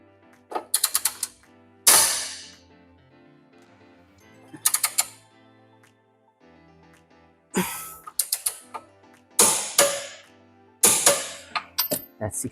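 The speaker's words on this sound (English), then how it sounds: "I'm going to torque it down to 68 Newton meters plus 90-degree angle." A torque wrench clicks and ratchets in sharp, rapid bursts separated by pauses while tightening a control arm bolt on a BMW E90, close and clear with faint low hum between strokes.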